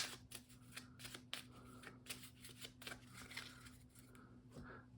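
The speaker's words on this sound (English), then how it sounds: "and these get shuffled back into the deck" Playing cards riffle and flick together in quick, rapid bursts, close and fairly quiet, over a few seconds of steady shuffling.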